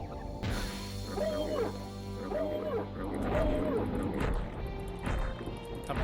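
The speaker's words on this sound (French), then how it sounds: "Ils font les bruits de chiens quoi." Enemies in the dark-fantasy shooter Hexen snarl and bark like dogs, several growling calls rising and falling over a steady game hum, with scattered thuds and clatter of combat throughout.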